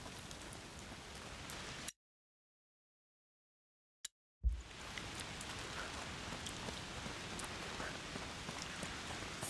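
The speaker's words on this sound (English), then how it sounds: "Foul rain." Steady rain pattering on surfaces in A Plague Tale: Requiem, a soft even hiss with scattered drops, broken by about two seconds of total silence midway before resuming.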